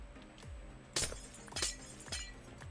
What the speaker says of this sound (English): I really hate the noise of breaking ice and glass.